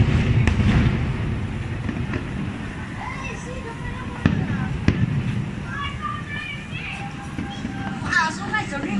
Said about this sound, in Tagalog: Fireworks ng Singapore kasi birthday ng Singapore.